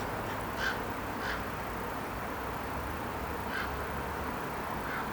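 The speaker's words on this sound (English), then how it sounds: "That's a big bird." A big crow gives four spaced-out caws, moderately distant, over a constant noisy outdoor background with no voices.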